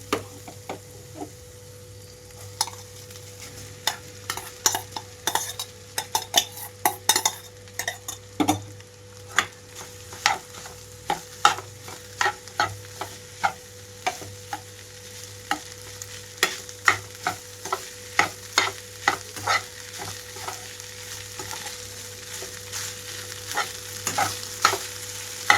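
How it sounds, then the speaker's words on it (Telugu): Egg fried rice being stir-fried in a pan over high flame after soy sauce goes in, with a steady low sizzle and frequent sharp clinks and scrapes of a spatula against the pan, close and continuous with no talking. "మళ్ళీ ఇప్పుడు ఇందులోకి రైస్ వేసేసుకుంటున్నాను."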